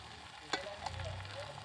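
Broad bean curry sizzles softly in a pan as a spoon stirs it, giving a faint steady frying hiss with a couple of brief scraping clinks, no talk.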